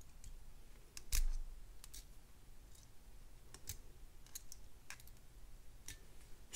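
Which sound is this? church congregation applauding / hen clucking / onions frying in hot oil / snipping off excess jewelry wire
snipping off excess jewelry wire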